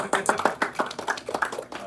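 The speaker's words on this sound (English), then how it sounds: "Yeah, everyone clap." Scattered clapping from a small group, brief and moderately loud, with some voices mixed in.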